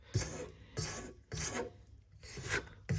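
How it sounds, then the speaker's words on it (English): A small spatula scrapes down the sides of a mixing bowl holding vegan raisin pretzel dough, giving four or five close, rasping strokes in a slow, even rhythm with quiet gaps between them. "scrape down the sides with my little spatula"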